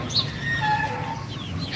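Rooster kept penned at a home zoo gives a short, clear cluck and low crowing-like call over a steady background hum, close by and alone without talk.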